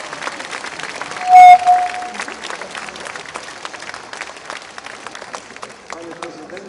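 Audience applause at an opera gala finale in Tczew, a steady dense patter of many hands clapping, with a brief whistle-like tone near the start.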